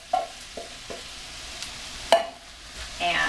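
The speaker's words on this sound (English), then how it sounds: "I'm going to just mix these in just for a minute" Red lentils stirred into spiced vegetables in a soup pot, with a few sharp spoon clinks against the pot and soft scraping over a faint background sizzle.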